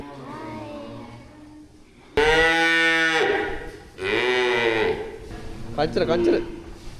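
Female dairy cows on a farm in Nuwara Eliya give long, loud moos in two or three drawn-out calls, mixed with people talking nearby.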